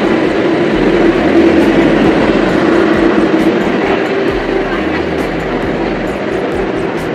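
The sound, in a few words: train departing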